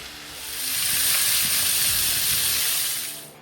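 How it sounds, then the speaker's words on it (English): Strips of bacon sizzle on a hot Ninja FlexFlame griddle, a loud, steady, close-up frying hiss that swells slightly in the middle and then fades. "Like any good griddle cook, I'm gonna start with little bacon."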